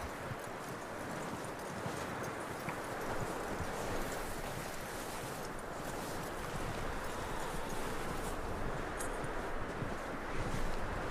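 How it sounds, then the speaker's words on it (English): Horse hooves clip-clop in Red Dead Redemption 2, a steady, continuous rhythm of close hoofbeats with a breezy outdoor background. "That looks like a decent horse. You should keep him."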